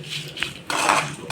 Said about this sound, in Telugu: ఎండుమిరపకాయలు, జీలకర్ర, మెంతుల్ని అండి నూనెలో ఫ్రై చేసుకుంటున్నాము